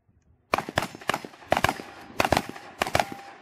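Shotguns, a pump-action and a semi-automatic, fire in a rapid head-to-head shooting competition outdoors: about a dozen sharp, loud blasts in quick irregular bursts, with no talking over them.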